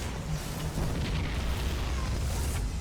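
A Terran siege tank in StarCraft fires on a Zealot and pylon, producing a steady low rumbling boom that holds loud and continuous across the whole short stretch.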